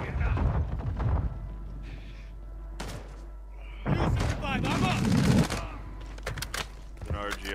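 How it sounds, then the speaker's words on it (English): Gunfire in the video game Call of Duty DMZ, with several bursts of shots and thuds mixed into game sounds and radio-style voices, while players talk over the action. "You are taking effective fire."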